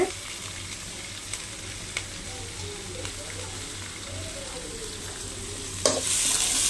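Chopped onion and half a chilli sizzling and frying in a pan, a steady close crackle with occasional stirring scrapes and a louder burst near the end.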